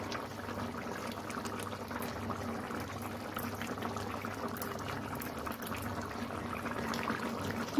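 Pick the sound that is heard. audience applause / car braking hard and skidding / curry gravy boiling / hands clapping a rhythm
curry gravy boiling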